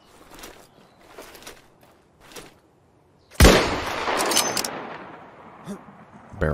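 Gunfire in a battle royale video game: a few sharp shots at first, then a loud close burst of rapid fire with crackling impacts and a rumbling tail, with voices talking over it.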